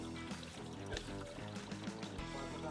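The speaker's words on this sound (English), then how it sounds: "we can drop the coolant out of the system" Coolant drains out of an engine's cooling system in a continuous pouring, splashing stream, heard close up and steady throughout with a few gurgling surges.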